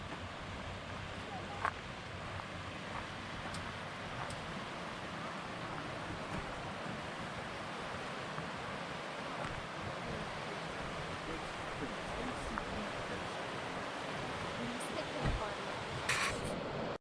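The Virgin River flows through Zion Canyon with a steady, broad rushing wash, moderately distant and unbroken, with a few faint knocks near the end.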